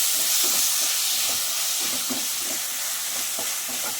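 Onion and tomato frying in a pan, a steady loud sizzle with soft scraping stirs now and then, no voices over it.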